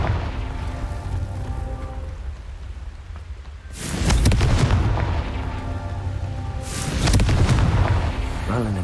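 Two heavy booming blasts of the Confringo fire spell in Hogwarts Legacy, each a loud rumbling explosion that swells and fades over a couple of seconds, with steady game background noise between them.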